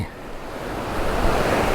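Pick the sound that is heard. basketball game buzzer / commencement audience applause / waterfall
waterfall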